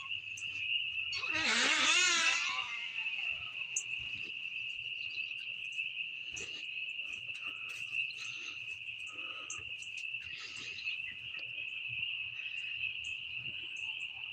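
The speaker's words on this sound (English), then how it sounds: "Do you hear the frogs?" Night-time chorus in a rural setting, frogs and insects trilling in a continuous high, steady drone, with a louder warbling call near the start and faint scattered chirps, no talking.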